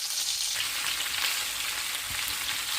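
Chicken pieces frying in a pan for onion chicken, a steady, close, dense sizzle that holds unbroken throughout with no talk.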